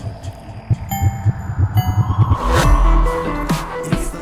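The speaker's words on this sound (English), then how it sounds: "Heartbeat." Throbbing heartbeat sound effect with steady, rapid low thumps that swell into a loud, booming rumble partway through, with no speech.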